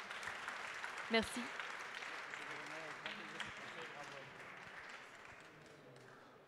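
An audience at a trophy awards ceremony applauds with a steady, moderate clapping that fades gradually, and someone speaks briefly near the start.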